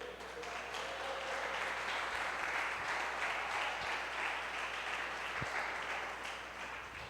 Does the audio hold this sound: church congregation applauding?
yes